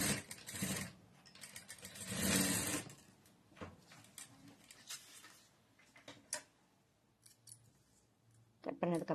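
Scissors snip notches into fabric piping in a few short, quiet cutting bursts with scattered clicks, while someone talks softly.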